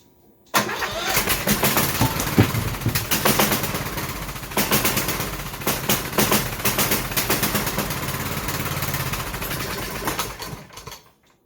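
A Kohler Courage 19hp engine on a Cub Cadet LTX1042 riding mower cranks, fires and runs loud and close for about ten seconds with a rough, pulsing, uneven beat that suggests heavy vibration, then cuts off abruptly.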